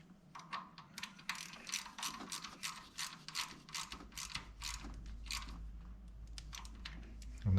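A brass plug is wound by hand with a ratchet into a Dodge Cummins BD Diesel Pulse exhaust manifold, giving a quick run of close, steady clicking pawl ticks that continue for several seconds before a thud at the end.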